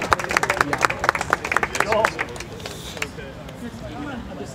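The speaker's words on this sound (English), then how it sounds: "big round of applause" Audience at a drone competition prize ceremony claps for the winners, loud and busy at first with crowd hubbub, then thinning and fading into quieter murmur after a few seconds.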